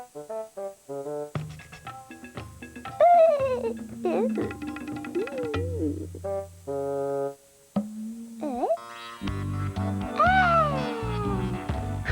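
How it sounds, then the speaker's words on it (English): A cat meows several times with rising and falling drawn-out cries over a backdrop of simple musical tones, in a children's educational programme about the letter C. "Cat."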